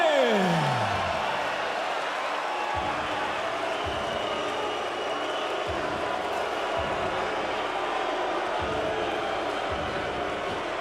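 Arena crowd at a Bellator MMA event at Mohegan Sun reacting to a unanimous judges' decision, a loud, sustained roar and murmur of many voices that fills the hall throughout, with a few dull low thumps underneath.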